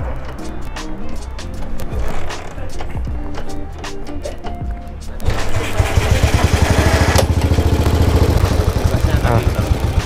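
A 1952 BMW R25 motorcycle is kick-started, with a few kicks of clicking mechanical strokes, then the single-cylinder engine catches and idles with a steady, close, thumping putter. Voices are heard over the first part.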